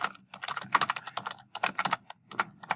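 Quick, irregular typing on a computer keyboard, clicking keys in close, crisp bursts with short pauses between runs.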